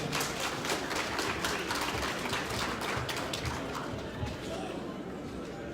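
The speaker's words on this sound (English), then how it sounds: "Give a round of applause." A crowd at a town hall meeting in Houston applauds with dense, continuous clapping that holds steady throughout, with voices mixed in.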